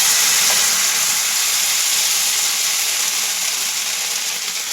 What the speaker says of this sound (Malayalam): കല്ല് നല്ല ചൂടായതുകൊണ്ട് ഞാൻ ഇതിലോട്ട് വെച്ച് ഒരെണ്ണം ആദ്യം ചുട്ടെടുക്കാമെന്ന് വിചാരിച്ചപ്പോൾ